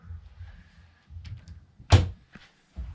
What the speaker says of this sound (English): it all lights up as you open the door